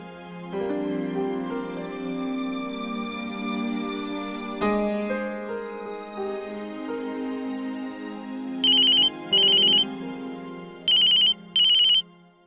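A phone call rings back through a handset, with repeating electronic tone pairs sounding over a melodic ringback tune, fairly loud and close.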